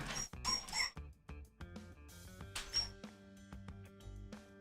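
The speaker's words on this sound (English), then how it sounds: "You can hear a pup that really thinks she's missing out on stuff outside." A puppy whines and yips high and thin in short repeated bursts, fairly close but quiet, as if wanting to get outside.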